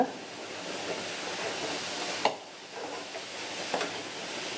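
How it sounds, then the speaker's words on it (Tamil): Shredded cabbage sautés in a pan with tamarind for a thovayal, making a continuous soft sizzle and hiss broken by a couple of sharp stirring knocks. "பாருங்கள், முட்டைக்கோஸ் நல்லா வணங்கி வருது"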